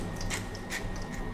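A pepper mill turned over a dish of rice seasoned with plum pickle vinegar, giving a soft, close grinding crunch in a couple of brief bursts over a steady low kitchen hum.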